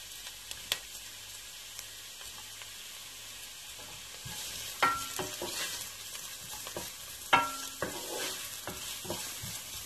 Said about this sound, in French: je vais essayer de faire dorer un petit peu des oignons